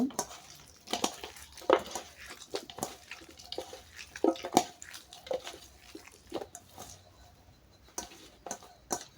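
Hands mix mashed chalta (elephant apple) bharta with olive pickle, making soft, wet squelching and squishing sounds in irregular close bursts, fairly quiet.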